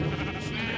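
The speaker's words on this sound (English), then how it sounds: "over here we got the sheep farm, which is also really nice." A sheep on a farm in the Minecraft video game gives one short, fairly loud bleat, alone and close by.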